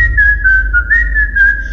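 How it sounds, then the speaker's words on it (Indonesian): A steady, clear whistled tone held for nearly two seconds, wavering slightly in pitch, loud and close over a low background rumble. "Terdengar ada suara siulan kembali."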